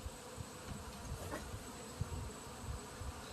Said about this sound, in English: We got a lot of bees coming back.